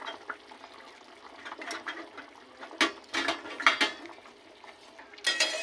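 Pieces of fish drop into a bubbling curry with broccoli and potato and get stirred in a pot, giving irregular splashes, liquid sloshing and utensil scrapes that come in uneven bursts.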